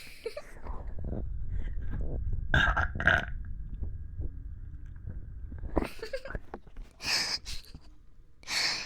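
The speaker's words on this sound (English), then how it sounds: "I need a burp." A loud, drawn-out burp rumbles low and close, followed by a few short breathy noises.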